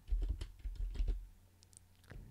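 Quiet keystrokes as Java code is typed on a computer keyboard, a few short clusters of taps followed by a pause and one last tap.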